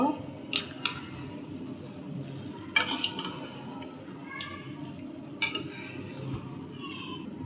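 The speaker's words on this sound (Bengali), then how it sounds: "এখন দিয়ে দেবো এই যে আমার মাংসটা, যেটা ভাজা সুন্দর করে ভাজলাম এতক্ষণ। এটা এখন দিয়ে দিলাম, নাড়াচাড়া করবো।" Fried rice with fried meat being stirred in a pan, a spatula scraping and clinking against the metal over a low sizzle, with several sharp knocks spread through the stir, alone without talk.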